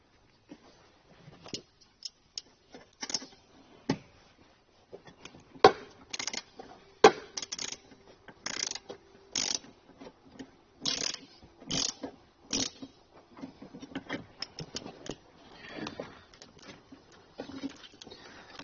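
Ratcheting clicks while a 10 mm ground bolt is tightened down on a ring terminal during trailer wiring harness installation on a 2023 vehicle, in irregular bursts of sharp ticks, close and moderately loud, with no talk.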